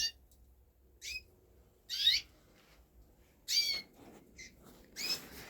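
Raza canaries and their young chicks chirp in an indoor bird room, giving a handful of short, bright, separate calls with quiet gaps between them.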